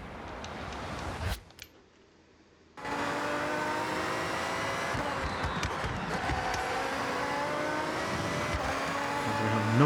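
A Lamborghini track-oriented race car engine in Forza Horizon 6 drones steadily and loudly after a brief quiet gap, its tone rising slightly toward the end.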